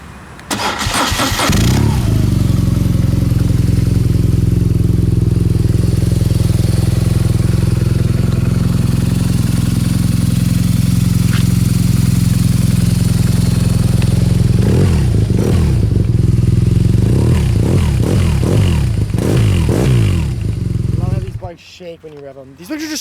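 A 2014 BMW R nineT motorcycle with about 4,666 miles fires up and holds a loud, steady engine roar for around twenty seconds, with a few blips of revving near the end before it cuts out abruptly.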